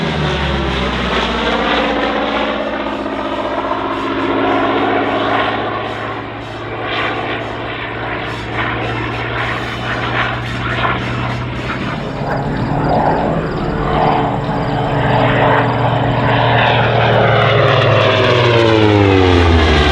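A Hawker Sea Fury propeller fighter flies past at a London airshow, its loud, throaty piston-engine drone swelling and shifting in pitch as it passes, alone and unbroken.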